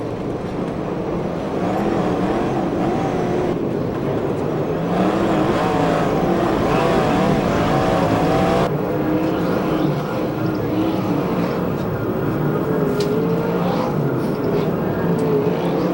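USAC National and CRA sprint cars race in the Oval Nationals at Perris, California, a dense roar of several engines droning and surging continuously around the oval track for the whole stretch.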